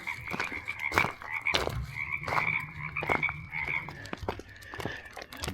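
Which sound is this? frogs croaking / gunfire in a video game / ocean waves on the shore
frogs croaking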